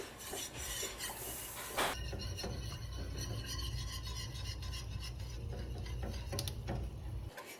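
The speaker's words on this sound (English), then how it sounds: "we're gonna keep stirring this until it starts to thicken up. And you wanna make sure to scrape the sides of the pan" A utensil stirring a thickening flour and butter sauce for pumpkin mac and cheese, scraping the sides of the pan in a continuous close rasping rub with occasional metallic clicks.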